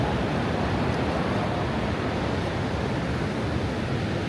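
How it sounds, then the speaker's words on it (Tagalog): Ocean waves at Bondi Beach in Sydney, a steady loud wash of surf with no clear breaks between waves, heard up close with no voices. "Lakas pa rin ng alon dito."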